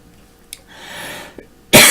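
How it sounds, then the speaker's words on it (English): A single person coughs during a live stream: a few small sharp coughs and throat sounds, then a loud harsh cough burst close to the microphone at the end. "I'm coughing my brains out"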